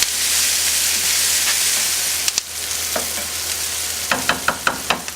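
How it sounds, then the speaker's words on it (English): Onions sweating in a pan with salt and pepper give a loud, bright, continuous sizzle that eases after a couple of seconds, followed by a quick run of sharp spatula scrapes against the pan. "this will let the onions sweat a little bit"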